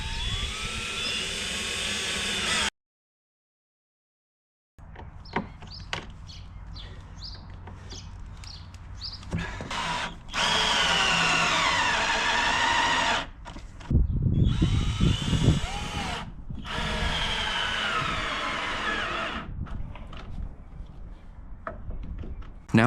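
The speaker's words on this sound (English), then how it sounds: "Now I'll reattach the studs I removed, but this time they will be screwed on tightly." Power drill driving screws to reattach studs onto a driftwood workbench, outdoors, with loud whirring bursts of varying length, a short silent gap, and continuous near buzzing motor noise.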